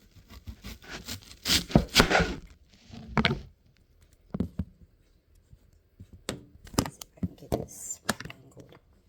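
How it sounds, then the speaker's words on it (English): A knife chops through an onion on a cutting board while making Philly cheesesteak sliders, giving several distinct thudding cuts in clusters separated by pauses. "I cut half of this onion"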